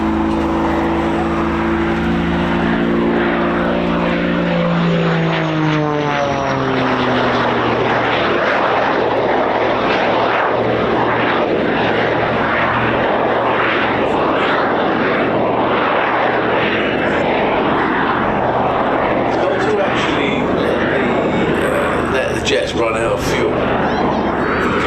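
Propeller warplane such as a P-47, P-51 or Spitfire performing an airshow display at Old Buckenham: a loud continuous engine roar with a clear pitch sweep as it passes, steady and sustained throughout, with commentary over it.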